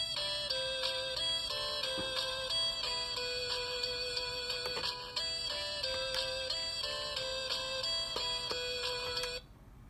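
A bright, chiming electronic menu melody from Recalbox on a Raspberry Pi 3 B+ loops steadily with no voices, then cuts off abruptly near the end.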